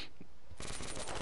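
A short, loud burst of rapid video-game gunfire breaks in after a brief quiet moment and rattles on to the end.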